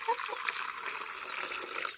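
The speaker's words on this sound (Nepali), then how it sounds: "कुखुराहरूलाई पानी सब आश गरेर म दिन्छु" Water poured out for a flock of thirsty chickens, a steady close gush and splash running without a break.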